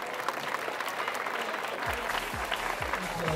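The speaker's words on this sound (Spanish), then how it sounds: "Fuerte el aplauso para ella." Audience applause at a baseball tournament ceremony, a steady wash of clapping throughout while an announcer's amplified voice speaks over it.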